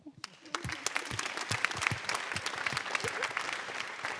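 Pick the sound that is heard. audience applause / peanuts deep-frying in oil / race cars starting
audience applause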